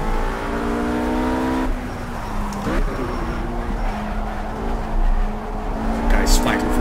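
RUF RGT 8 race car in the Project CARS racing game accelerating hard through its gears, the engine note climbing steadily, dropping briefly at each upshift and then rising again; close and loud throughout, with a voice talking over it.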